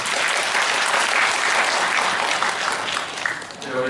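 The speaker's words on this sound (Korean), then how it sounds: "박수 다시 한번 부탁드리겠습니다" Audience applause fills a convention hall at a hotel event, loud and sustained clapping from a large crowd for about four seconds, tapering slightly near the end.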